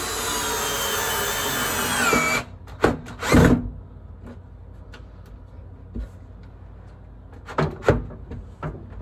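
A power drill drives screws into a corner dog kennel furniture piece, a steady loud whir for about two seconds, then stopping, followed by scattered knocks and handling bumps of the wooden parts.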